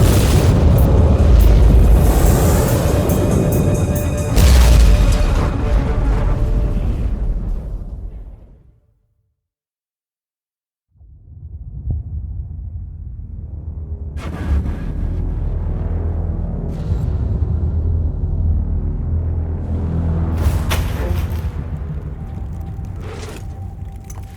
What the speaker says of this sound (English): the automatic defense system has been activated. The turrets are attacking you.